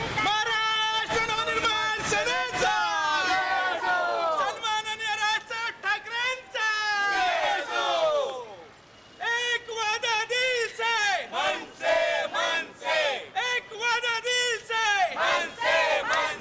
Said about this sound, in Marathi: मनसैनिकांचा आता जल्लोष बघायला मिळणार आहे